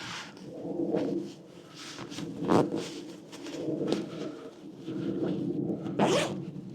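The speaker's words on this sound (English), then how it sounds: "Get the zip pulled across." A zipper is pulled across a small hammock storage bag in a few rough, scratchy strokes, close up, with no speech.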